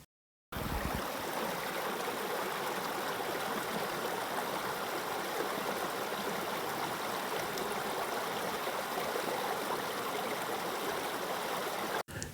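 The Ninglinspo mountain torrent in Wallonie rushes over a 250-metre drop, a dense, steady broadband roar of flowing water heard close and alone, running unbroken after a brief silent start.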